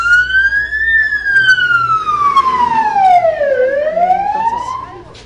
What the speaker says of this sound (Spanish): llega ya la ambulancia con los heridos